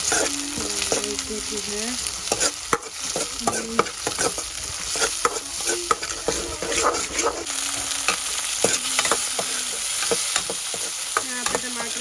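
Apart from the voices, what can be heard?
tomatoes and masala frying and being stirred in a pan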